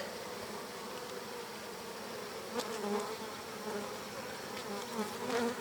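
A steady, close buzzing of many honeybees humming continuously at a hive, with a few louder individual buzzes passing near.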